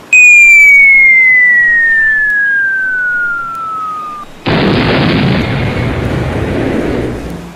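An island being destroyed in an animated cartoon: a falling whistle-like tone slides down before a loud, sudden explosive blast that roars on, close and dominant.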